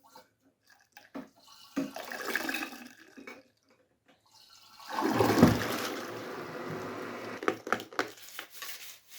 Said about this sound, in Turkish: Şimdi sifona basıyorum.